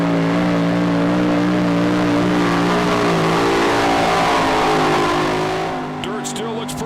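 Don Nelson's Texas Bullwhip pulling tractor roars down a dirt track at a tractor pull in Hamburg, New York, a loud sustained engine drone with steady harmonic pitch that fades slightly near the end.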